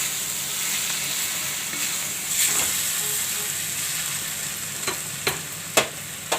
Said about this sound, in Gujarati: બટેટાનું છીણ નાખી દેવું. એને આપણે સરસથી મિક્સ કરી લેવું.